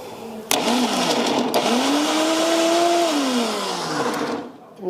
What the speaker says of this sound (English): Here's where you want to have a good blender.